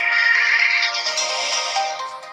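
A test sound plays alone through the mono speaker of a Motorola Razr 2020 foldable phone, a steady bright tonal melody lasting a couple of seconds at moderate loudness.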